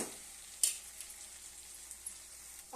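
Onion and potato curry softening in a pan, a soft continuous sizzle with occasional stirring scrapes, close and quiet.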